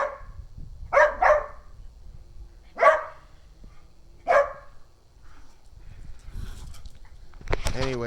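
A pet dog lets out four sharp barks spaced over several seconds while playing with a cat indoors, with quiet household noise between them and a short human vocal sound at the end.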